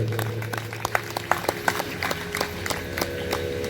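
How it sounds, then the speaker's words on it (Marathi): An audience at a devotional katha gathering at Bhaveshwar temple in Nanded claps together, a rhythmic patter of hands at moderate loudness that goes on steadily. "एकदा आपण सर्वांनी जोरदार टाळ्या वाजवायच्या"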